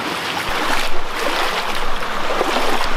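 Water flows steadily in a small trout stream, a continuous close rushing and trickling wash that holds an even level throughout with no voices.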